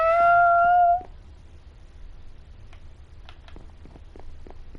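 A cat in Minecraft gives one clear, close, drawn-out meow at the start, followed by quiet faint ticks and soft clicks over a low background hum.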